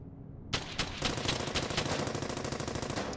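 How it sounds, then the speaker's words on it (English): Rapid automatic gunfire from a squad erupts in the World War II shooter Brothers in Arms: Hell's Highway, a dense, loud burst of overlapping shots following a brief quiet start, with no talking. "release the mouse to issue a fire order."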